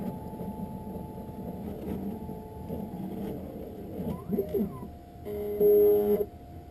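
An optical lens edging machine tracing around a RayBan lens for an invisible bifocal, a steady mechanical whir with small sweeping motor tones and a brief louder whine near the end, with no one talking.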